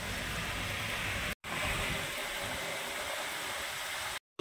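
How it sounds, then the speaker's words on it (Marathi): Heavy monsoon rain pours down at Nadgive Ghat on the Mumbai Goa Highway, a dense, constant hiss of falling water that fills the scene, broken by two brief cuts to silence. "पाऊस खूप पडायला लागला आहे आणि हे बघा पाणी बघा."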